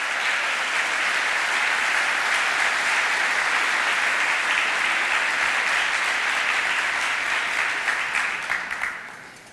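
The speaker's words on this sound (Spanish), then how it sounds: "por favor, un fuerte aplauso." A press conference audience breaks into dense, sustained applause that holds strong for several seconds and then fades out near the end, with no voices over it.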